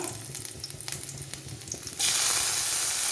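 Mustard seeds and onion in hot oil for a thazhuthama bitter gourd thoran: a quiet crackle with small pops, then a sudden loud, dense sizzle that takes over for the last second.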